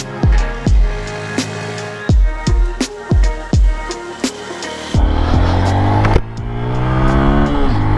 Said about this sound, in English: So I'm gonna give it everything we got. Full twist of the throttle. See how it climbs this hill.